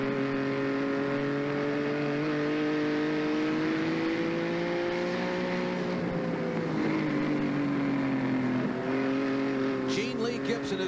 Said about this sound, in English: Listen to how smooth Fry is on the throttle.